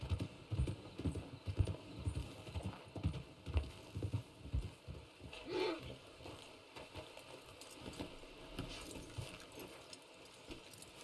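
Horse hooves clip-clopping in the Red Dead video game, a steady fairly close rhythmic clatter while people talk over it.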